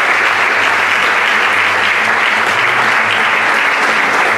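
A theatre audience at an anniversary gathering of a drama group bursts into loud, dense, sustained applause, a thick wash of many hands clapping close by without pause.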